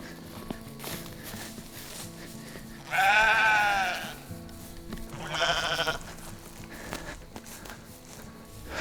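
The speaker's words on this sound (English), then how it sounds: "Hey, sheep." Sheep on a rotational grazing farm bleat twice in loud, wavering calls, one long and one shorter, over a background of shuffling hoof steps.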